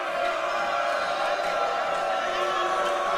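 Loud crowd filling a volleyball match gym, a dense continuous roar of voices and cheering with no clear breaks.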